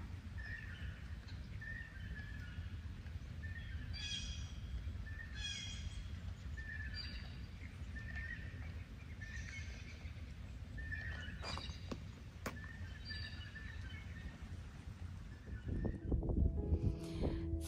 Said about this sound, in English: And hear the nice birds.